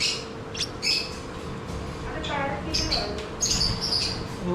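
A parrot in an exotic pet shop gives several short, shrill squawks and chirps close by, with people talking in the background.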